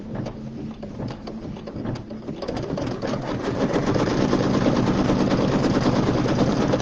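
An embroidery machine sews a tack-down line on striped fabric for a quilt, a steady close mechanical whir with rapid needle ticking that builds slightly louder midway and keeps going without any talk.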